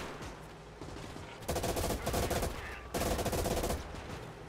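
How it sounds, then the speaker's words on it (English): Machine-gun fire in the WWII game Gates of Hell, Soviet campaign: two loud, rapid sustained bursts of automatic fire, each about a second and a half, over a quieter bed of battlefield noise. "This MG is pretty powerful"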